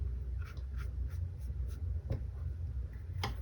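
A brush strokes watercolour paint across paper, soft repeated scratchy swishes in a loose rhythm over a low background hum, close and quiet.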